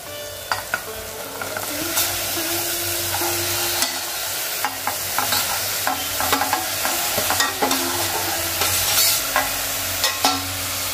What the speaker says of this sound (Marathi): तर व्यवस्थित फास्ट फ्लेम वरतीच आपल्याला हे सर्व परतून घ्यायचं आहे